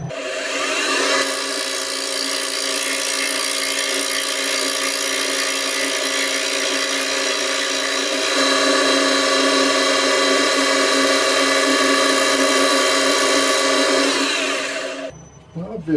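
Wood spinning on a Swiss toolmaker's lathe, a loud steady whirring hum with tonal bands and a faint scraping texture that runs continuously for about fifteen seconds before cutting off abruptly near the end.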